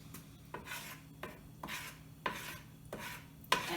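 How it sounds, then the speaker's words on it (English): Play dough mixture being stirred in a cooking pot: repeated scraping, rubbing strokes in a steady rhythm, close and fairly quiet, with a small clink near the end. "And keep stirring."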